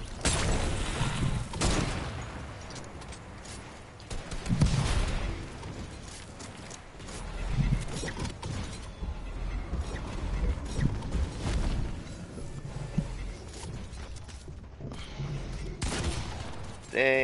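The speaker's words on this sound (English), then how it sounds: "Dang, somebody shot at me." Gunfire in the Fortnite video game, with sustained bursts of shots and rattling fusillades in a dense, noisy battle mix, steady in loudness with occasional louder hits.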